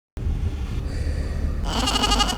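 A goat in the film Poor Things lets out a loud, wavering bleat that swells into a brighter, shakier cry at the end, close and alone.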